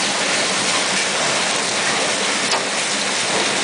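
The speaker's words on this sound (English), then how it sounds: "you can see the hail bouncing off the tree and hear it hitting off the window" Hail pelting a window during a Texas storm, a dense, steady hiss of countless tiny impacts filling the whole stretch with no breaks, fairly loud and even.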